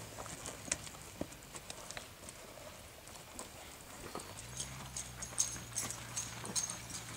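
A young Western working horse on its first ride clip-clops steadily at a walk, fairly faint hoof beats in an even rhythm over outdoor ambience, no voices.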